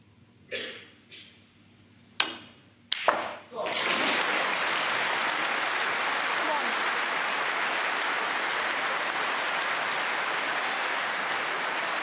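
A snooker crowd at the Masters final in North London bursts into sustained applause after a few coughs and shuffles, the clapping loud and continuous for the rest of the clip.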